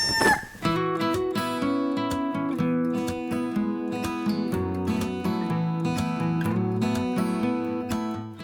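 Backyard chickens clucking with a rooster crowing, the crow opening loudly up close and steady clucks and calls layered continuously throughout.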